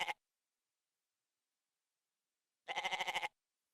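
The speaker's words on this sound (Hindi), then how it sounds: "दुल्हन के सदके का बकरा है।" A single short, quavering bleat rings out clearly after a brief clipped cry, with silence between.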